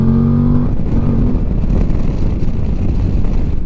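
VOGE DS 800 X Rally motorcycle engine pulling away and accelerating after a turn, a loud close engine roar with a falling tone at first, then steady rumbling drive over heavy wind noise.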